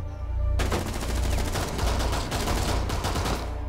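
Rapid, sustained automatic gunfire in the Rainbow Six Siege shooter, loud and dense bursts for several seconds after a brief quieter start, with no talking.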